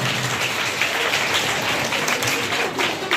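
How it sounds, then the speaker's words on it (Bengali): An audience at a school sports and cultural prize ceremony gives a round of applause, a steady wash of clapping from many hands, moderately loud and continuous. "তাদের জন্য আমরা একটা করতালি দেব সবাই।"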